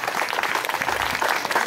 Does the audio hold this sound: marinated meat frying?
no